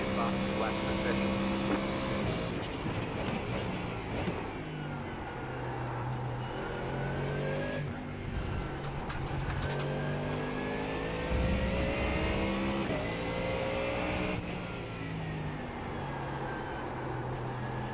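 A race car engine in a sim racing game climbs steadily under throttle, its pitch rising repeatedly and dropping back at gear changes, a sustained loud drone over about eighteen seconds.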